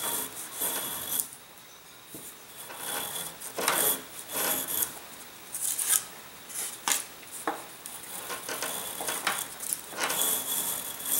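Sandpaper rubbing over the vertical stabilizer of a balsa model aircraft, a close, steady run of rasping strokes with uneven bursts and brief pauses, no voices.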